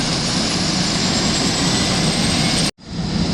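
The second engine of a propeller airplane roars steadily and loudly at close range, then cuts out abruptly for an instant before the drone returns.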